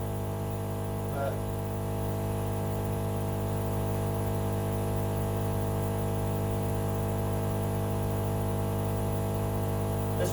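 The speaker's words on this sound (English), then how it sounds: "this wine pump is pretty cool" An electric wine pump moving concord grape wine from one carboy to another gives off a steady, unbroken motor drone with a buzzy hum that stays even and close for the whole stretch.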